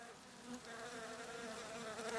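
Honeybees inside a hollow tree hum in a dense, steady buzz, a soft, continuous drone from many insects that swells slightly toward the end, with no voices.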